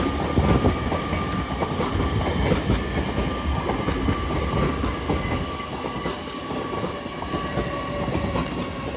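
A Class 801 LNER Azuma working from London King's Cross to Edinburgh Waverley passes through Doncaster station with a loud close roar, clattering wheels over rail joints and a steady high whine, and no voices.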